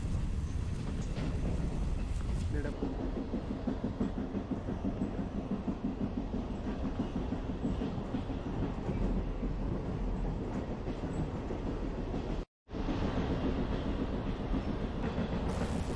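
Bhimavaram Junction to Vijayawada MEMU passenger train 67282 running at night, a continuous rolling rumble with rhythmic wheel clatter heard from inside the carriage, briefly cutting out once near the end.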